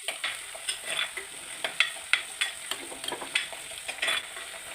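Masala stirred in hot oil in a pan for fish curry: a soft continuous sizzle broken by regular scraping strokes of a spoon, close and without any talk.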